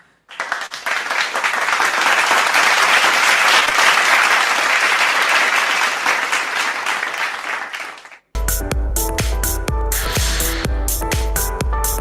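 A large audience at a health and wellness marketing awards ceremony breaks into loud, sustained applause for about eight seconds, then it cuts off and upbeat music with a steady beat takes over.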